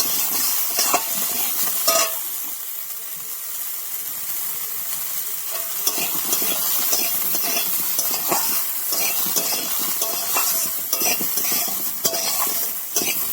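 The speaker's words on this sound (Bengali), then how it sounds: "ওই তেলের মধ্যে আমি ফুলকপিগুলো দিয়ে ভেজে নেব" Cauliflower florets frying in hot oil give a steady crackling sizzle with scraping stirs in the pan, close and continuous, with sharper spatters here and there.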